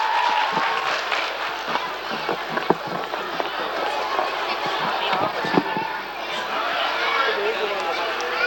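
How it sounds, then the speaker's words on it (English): Audience in a school annual show applauds students walking on stage, a dense steady clapping mixed with crowd chatter and voices throughout. "Give them a big round of applause."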